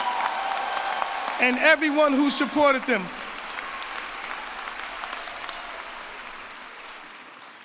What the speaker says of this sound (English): Let's have a round of applause for our graduates